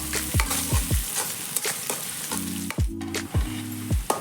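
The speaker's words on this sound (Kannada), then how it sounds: "ಸ್ವಲ್ಪ ಬ್ರೌನ್ ಆಗೋ ತನಕ ಫ್ರೈ ಮಾಡ್ಕೋಬೇಕು." Onions frying until brown in a pan for dum biryani, with a loud continuous sizzle and repeated rhythmic scraping strokes of a spatula, up close and with no talking.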